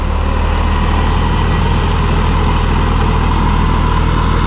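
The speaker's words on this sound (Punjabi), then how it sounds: "ਤੇਜ਼ ਚੱਲਣ ਨਾਲ ਟਰੈਕਟਰ ਤੇਜ਼ ਚੱਲਦਾ ਵਾ" A tractor engine running steadily during potato planting, a loud, constant low throb close by with an even pulse and no speech over it.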